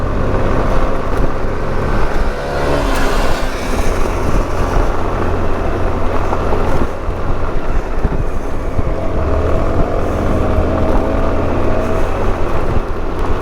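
A car drives fast, around 70, on a gravel road in eastern Turkey on Michelin tyres, with heavy braking and ABS at work. A loud, constant roar of engine, tyre and wind noise runs throughout.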